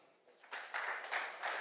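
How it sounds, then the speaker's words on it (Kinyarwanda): Wedding guests break into loud, sustained applause that swells after a quiet half-second start and holds steady as a dense wash of many hands clapping. "Amashyi menshi cyane."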